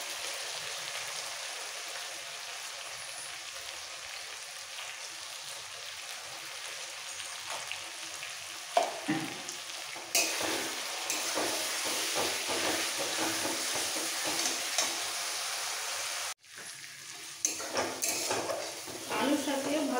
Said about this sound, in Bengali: আলুর সাথে ভালোভাবে মশলাকে কষানো হয়ে গেছে